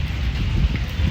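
Steady gusting wind on a drizzly day buffets the microphone with a low, rumbling roar, no voices present.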